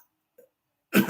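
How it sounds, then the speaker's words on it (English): A single short, sharp cough near the microphone, ending the clip after near silence and a faint small sound. "apologize for the cough"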